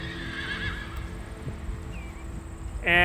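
A young horse on a farm whinnies loudly near the end, after a stretch of steady noise with soft hoof thuds and clip-clop underneath, no voices.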